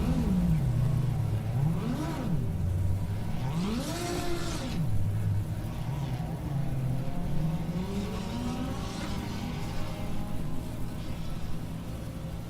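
Mazda Miata race car in Assetto Corsa EVO, its engine revving and shifting through gears in sweeping rises and falls, loud and steady throughout with a continuous drone.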